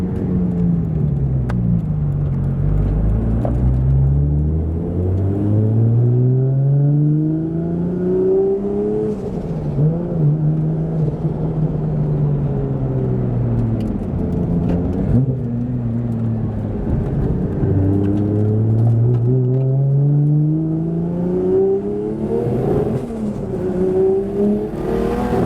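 Turbocharged 2JZ engine with a G42 turbo in a Nissan S15 Silvia, revving up and down in repeated rising and falling sweeps, loud and close for the whole stretch with no talking.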